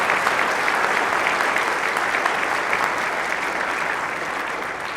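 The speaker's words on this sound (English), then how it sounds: "Please give them a round of applause." A crowd at a Senate floor session applauds steadily and loudly, a dense continuous wash of many hands clapping that fades only slightly toward the end.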